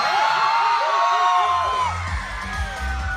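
Crowd at a campus concert roars with cheers and whoops, loud and close, then settles into a lower murmur of voices.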